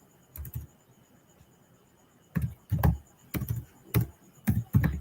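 Bursts of computer keyboard typing in short clustered runs of keystrokes, separated by brief pauses, close and fairly clear with no talking.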